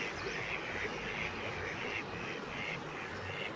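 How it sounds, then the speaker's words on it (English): Ducks quack repeatedly by the Colby River on the Isle of Man, their calls coming in short bursts over a constant background rush of flowing water. "just a lot of ducks"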